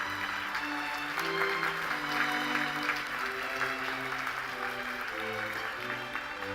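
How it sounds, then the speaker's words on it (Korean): An audience applauds steadily and loudly at the Samsung Ho-Am Prize award ceremony, with the clapping sustained throughout and a low tonal hum or music beneath it. "수상을 진심으로 축하드리며 힘찬 박수로 축하해 주시기 바랍니다"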